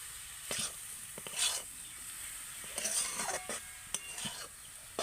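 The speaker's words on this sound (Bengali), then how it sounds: "এবার আমি দেখুন সব কিছু একসাথে খুব ভালো করে এইভাবে মিশিয়ে নেব নেড়ে নেড়ে" A spoon stirs motichoor laddu mixture in a pan in a series of scraping, rasping strokes with brief metallic clinks, moderately close with a soft sizzling bed, and no voices.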